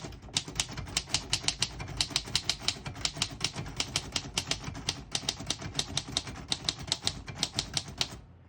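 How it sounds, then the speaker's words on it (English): Crisp mechanical keystrokes clatter in a quick, steady rhythm on a 1936 Royal Model O portable typewriter, close and distinct, with no voices. "I'll type a sentence on this next line."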